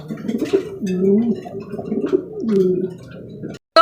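Mondain pigeons coo in a close, repeated, throaty rolling pattern, several gurgling coos in a row before a sudden cut at the end.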